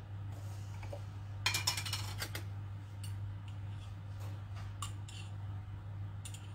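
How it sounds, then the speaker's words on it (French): A metal teaspoon clinks and taps against a jar and bowl while measuring honey for carrot hummus, a few sharp quiet clicks in brief clusters over faint room hiss. "Je vais prendre mon autre cuillère à café."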